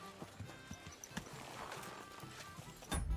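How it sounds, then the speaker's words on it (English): A horse's hooves clip-clop steadily on the ground in the video game Kingdom Come Deliverance 2, a close, moderately loud rhythmic trot with a heavier thud at the end; no talking. "Let's get our horse."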